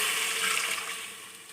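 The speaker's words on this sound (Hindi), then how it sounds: "अब मैं इसमें 1 गिलास पानी ऐड करूँगी" A glass of water pours into beef browning in a cooking pot, a steady splashing rush that fades over a second or so.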